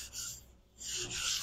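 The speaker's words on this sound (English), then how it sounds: "we're just sanding that oil in again, knocking back all those fibres" Steady rasping of sandpaper rubbed back and forth over an oiled pine dresser, close up, with a brief pause midway before the scratchy strokes resume.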